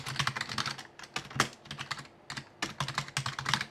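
Rapid typing on a computer keyboard, bursts of crisp close key clicks in quick irregular runs with brief gaps between phrases.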